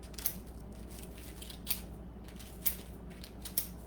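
Scissors snip slits into a plastic bag for drying herbs, four crisp close cuts spaced about a second apart over a quiet room hum.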